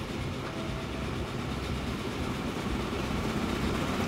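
Several trains run in the Train Fever video game, a steady, dense rolling rumble with faint rail clatter that holds at an even, moderately loud level throughout, with no voices over it.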